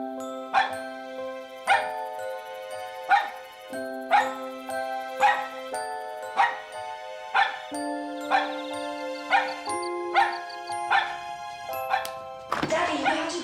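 Small dog barking in a steady, repeated rhythm of sharp yaps, roughly one every second, with a musical tone running underneath throughout.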